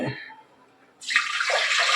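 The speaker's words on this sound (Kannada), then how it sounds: "ಎರಡು ಕಪ್ಪು ನೀರು ಹಾಕ್ತೀನಿ ಸಾಕು" Water poured from a cup onto rice in a cooking pot, a steady close splashing pour that starts abruptly midway after a quiet moment and continues loudly to the end.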